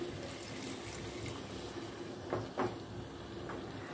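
A quiet, steady stream of half a cup of water pours into a pan of achari aloo, with a couple of soft clunks partway through.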